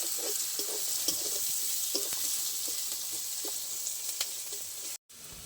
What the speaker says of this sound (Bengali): এবার দিয়ে দেবো কুচিয়ে রাখা পেঁয়াজ, পেঁয়াজটা একটু ভালো করে লাল লাল করে ভেজে নেবো আমি।